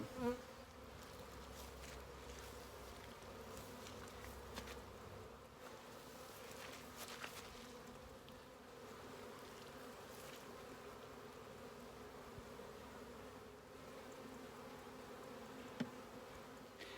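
A dense, steady hum of many honey bees buzzing around a poly hive nearby, continuous and fairly faint, with a couple of soft knocks.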